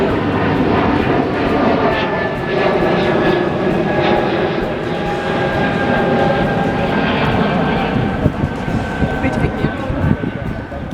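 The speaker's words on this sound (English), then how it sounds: "The plane just going overhead" A propeller or jet airplane passes overhead outdoors on a cold day, a steady broad engine roar that fills the whole stretch without fading, with people talking faintly underneath.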